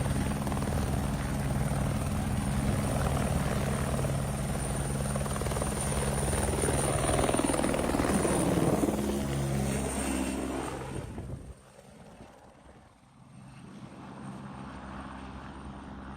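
A helicopter flies overhead with a stuntman hanging beneath it, its rotor thumping and turbine roaring loudly and steadily before the sound drops off abruptly and returns fainter.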